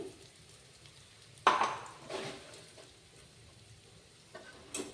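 Masala paste sizzling in hot oil for churumuri, a soft steady fry with a sharper burst of crackle and a few stirring scrapes, close and fairly quiet.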